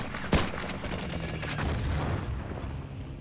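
Gunfire in Battlefield 1942, a sharp loud shot near the start followed by a dense, steady wash of distant battle noise and rattling fire for the rest of the moment.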